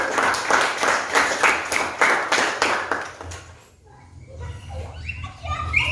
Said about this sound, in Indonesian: Berikan tepuk tangan walaupun di perjalanan.